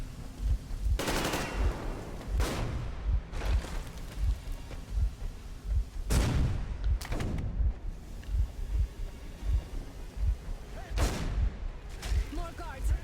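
Sharp, close gunshots from a pistol and other weapons in Metro Exodus crack out one by one at irregular intervals over a steady rumbling rain-like game ambience.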